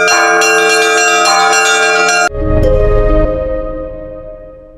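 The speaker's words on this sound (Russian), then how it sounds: "на высокой колокольне над храмом и городом ведет мелодию звонарь" Church bells in a high bell tower above a temple and town, played as a melody by a bell ringer: loud, layered ringing strikes that give way to a deep resonant clang, then a long fading hum.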